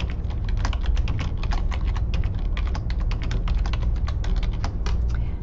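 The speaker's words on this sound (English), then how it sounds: "So now then I'm going to type" Rapid, close typing on a computer keyboard, a dense run of sharp key clicks at an uneven pace that continues without pause and is heard on its own.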